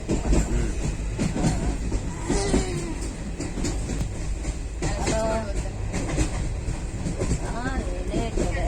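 A train rumbles along the rails with a steady, loud low roar and rhythmic clatter, voices faintly audible amid the constant noise.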